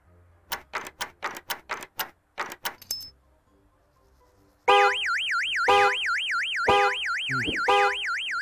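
A customer's car horn honks at the pumps in the video game Gas Station Simulator: a loud, sustained, wavering electronic tone that starts abruptly after a run of sharp typing-like clicks and holds steady to the end.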